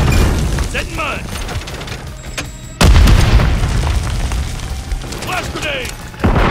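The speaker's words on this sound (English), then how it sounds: "Throwing a stun grenade." Stun grenade going off in Call of Duty, a sharp loud burst near 2.8 seconds, with another at the end over continuous battle noise and shouted game voice lines.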